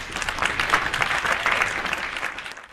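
Audience applause at a Tamil Mattu Pongal special debate event greets the first speaker, Kovai Sathya, as a steady, dense wash of clapping that holds throughout and fades at the very end.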